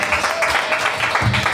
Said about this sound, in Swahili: mtu ampe Bwana makofi mazuri